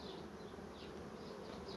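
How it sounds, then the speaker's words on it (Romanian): Honeybees returning with nectar buzz around the hive entrance early in the morning, a continuous faint humming drone with overlapping wingbeats close by. "Iată cum intră albinuța cu nectar."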